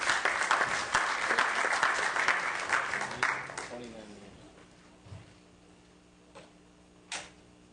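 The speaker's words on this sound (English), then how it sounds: "Please, a big round of applause to Dr. Gabriel Halpern." An audience at an information briefing applauds loudly and densely for a few seconds. The clapping then thins out and fades, leaving a few scattered claps and quiet room noise.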